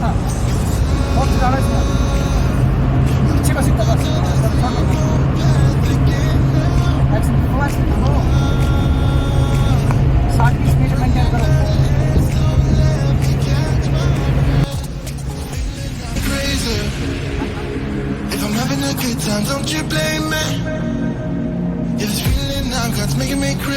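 A car drives along a mountain road between Srinagar and Manali, its engine and tyre rumble steady and close, with faint talk and background sounds mixed in and a quieter stretch near the end.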